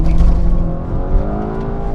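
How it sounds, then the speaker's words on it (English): A Volkswagen GTI with a DSG gearbox in manual mode launches hard from a red light in first gear at full throttle, the engine roaring loud and close as revs climb steadily over two seconds. "First gear, floor it."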